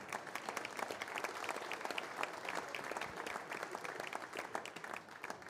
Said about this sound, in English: Oh, keep clapping.